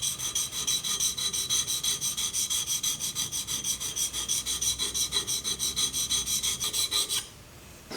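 A woodworking chisel is sharpened on a whetstone with fast, even back-and-forth strokes, a close, gritty rasping rub repeated about forty times before stopping.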